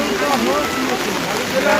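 Heavy rain falls hard at a temple fair, a loud, dense, unbroken hiss filling the scene with faint voices mixed underneath.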